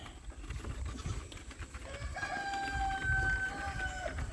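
Small farm chickens cluck and crow nearby in a farmyard with goats, a sustained rooster-like call rising over scattered clucks and a low rumble of background noise.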